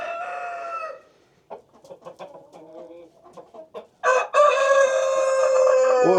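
A black rooster crows loudly and close by, then a stretch of soft clucking and short calls, followed by another long, full crow.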